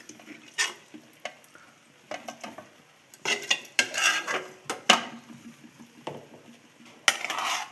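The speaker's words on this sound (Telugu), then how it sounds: "ఫస్ట్ రైస్ వేసుకున్న తర్వాత చికెన్ వేసుకోవాలి." Rice and cooked chicken are spooned in layers into a biryani pot, with scattered scrapes, soft thuds and utensil clinks against metal, louder in bursts toward the middle and end, no voices.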